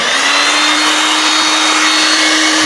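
A refurbished Moulinex blender motor, rebuilt from scrap and running on 220 volts, spins at full speed with a loud, steady, high whine that stays even throughout.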